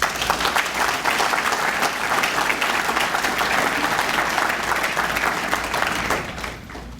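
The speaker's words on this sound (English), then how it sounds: "give yourselves a round of applause" Loud, dense applause fills the hall at a Miami-Dade Police Department law enforcement academy graduation, sustained for several seconds before tapering off near the end.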